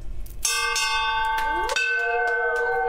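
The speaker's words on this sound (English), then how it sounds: "This week, Rich ringing the bell in celebration of the accomplishment." A bell rung in celebration of a surgical recovery at a medical institute, giving several bright metallic strikes whose ringing tones overlap and sustain, loud and close.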